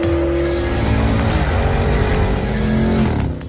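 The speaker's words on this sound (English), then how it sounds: "The highlight of the new Cayenne GTS is its new V8 twin-turbo engine" A 2021 Porsche Cayenne GTS with a twin-turbo V8 drives past at speed, its engine a loud, steady roar that rises slightly and then fades at the end.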